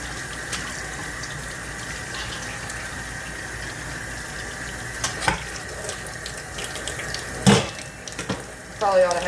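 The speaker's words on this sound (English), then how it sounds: "We're just going to rinse them in cold water." Chicken thighs rinsed under a cold running kitchen tap, a steady close water stream filling the whole stretch, with a few brief clatters and splashes near the end.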